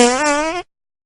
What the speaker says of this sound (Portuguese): Peido mosquito.